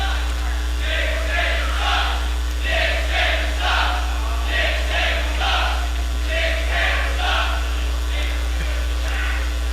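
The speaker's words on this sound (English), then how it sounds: "Crowd here taunting Mike Posey again." A wrestling crowd at an Anarchy Wrestling TV match taunts Mike Posey in loud, rhythmic chanted bursts over a steady electrical hum, the jeers rising and falling in repeated waves.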